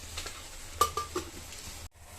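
Tea with milk and sugar simmers in a pan, giving a soft steady bubbling hiss broken by a few light clinks of stirring, with no voices.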